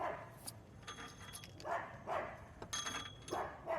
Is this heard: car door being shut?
no